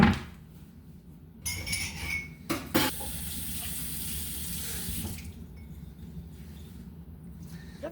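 Tap water runs into a sink while rice is rinsed, a close splashing stream with brief louder gushes and clatter against the container before settling into a steadier flow.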